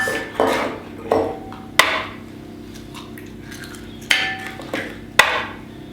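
Four whole eggs cracked one after another against a hard edge for a Christmas cake batter, sharp close knocks in two spaced groups with brief wet trailing rustles, in a quiet kitchen without speech.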